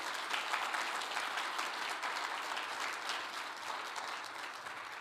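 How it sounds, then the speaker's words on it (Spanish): A church congregation gives a steady, even round of applause during a sermon. The clapping stays continuous and rather soft and distant, with no voices over it. "Denle un fuerte aplauso al Señor."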